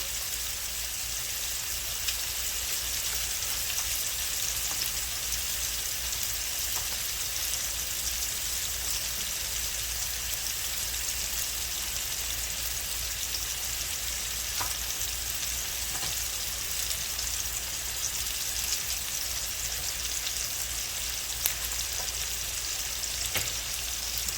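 Pads of butter melt in a hot pan while cooking a deconstructed Beef Wellington, giving a steady, close hiss and sizzle that holds evenly with no one talking.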